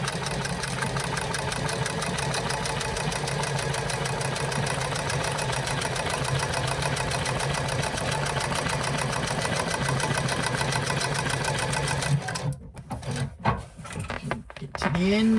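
An industrial sewing machine runs steadily at speed, quilting laptop bag pieces along stitching lines, with a fast, even mechanical chatter that stops abruptly near the end, followed by a few clunks and handling noises.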